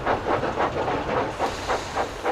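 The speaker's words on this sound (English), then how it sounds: "the 2 heard distant puffing coming from behind them" A little green steam tank engine pulling a train of crates puffs in a steady rhythmic series of hissing chuffs, about eight beats in quick succession, fairly loud and alone without voices.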